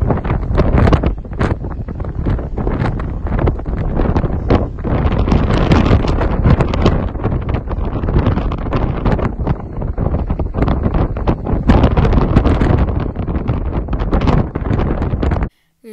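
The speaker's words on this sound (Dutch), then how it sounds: "Het is super winderig." Strong wind on Ameland blasts straight into the microphone with a loud, constant, buffeting roar. It carries on for about fifteen seconds, then cuts off abruptly.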